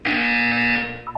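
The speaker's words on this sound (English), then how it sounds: "You will hear a buzzer." A wake-up buzzer in the video game Portal 2 sounds as a single loud, harsh electronic tone that holds steady for about a second before cutting off, followed by a short higher electronic blip.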